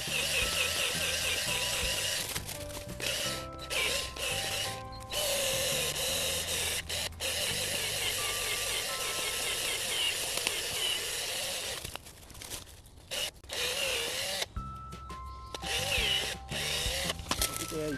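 A power drill bores into a tree root to open holes for herbicide, giving a loud, steady whine that drops out briefly several times and resumes after a longer pause near the end.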